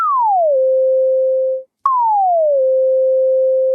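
Two sustained synth notes from the Nambu synthesizer, each opening with a falling pitch glide before holding steady, the second played after a brief gap at a noticeably different level, clean and alone.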